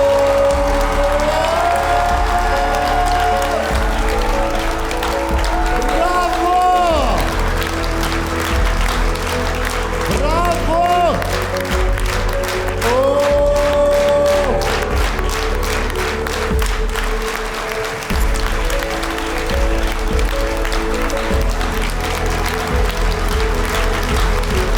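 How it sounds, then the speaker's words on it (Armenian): Loud, sustained audience applause fills a talent show gala, dense clapping and cheering from a large crowd that continues steadily under music for the whole stretch. "ձեր ծափարությունների ներքո"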